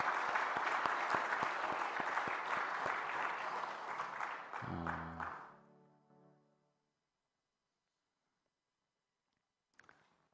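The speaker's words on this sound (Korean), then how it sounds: "저 부부를 위해서 우리가 박수 한번 더 하십시다." A church congregation applauds a newlywed couple back from their honeymoon at a Sunday service, a dense sustained clapping that fades out over several seconds into near silence, followed by a brief late knock.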